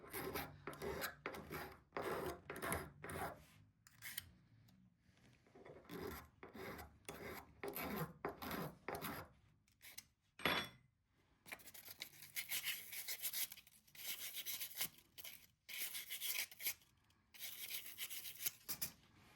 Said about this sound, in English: I'll still sand these because the file makes little burrs too.